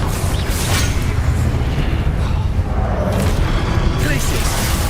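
Confringo fire-blast spells exploding in the video game Hogwarts Legacy: a continuous roar of booming, crackling bursts stays loud and dense throughout, with a voice calling out over the noise.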